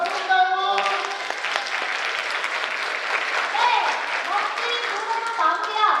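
An audience at a mock national assembly event gives a candidate sustained applause after a song: a dense, steady wash of clapping throughout, with a voice speaking over it.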